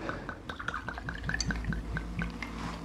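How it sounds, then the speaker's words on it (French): Vanilla vodka pours into a cocktail glass, a quiet close trickle and dripping with small liquid splashes in an irregular rhythm, no talk. "Donc là vous mettez une vodka, moi j'ai une vodka à la vanille."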